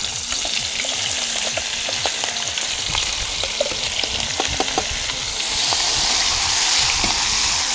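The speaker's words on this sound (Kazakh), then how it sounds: "Енді әзір пиязы салып, жақсылап қуырып" Onions and potatoes fry in a pan with a steady, loud sizzle and crackle that grows fuller and louder partway through, with no talking.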